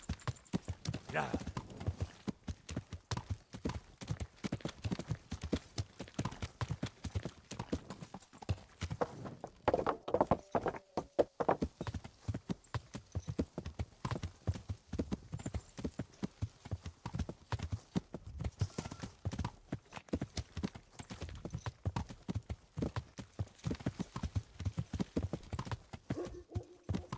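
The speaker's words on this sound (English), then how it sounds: "this horse is driving me nuts trying to go through the vineyard here" Horse hooves clip-clop steadily in Kingdom Come: Deliverance as the mount moves through a vineyard, a continuous rhythmic trot under intermittent speech with an occasional faint whinny.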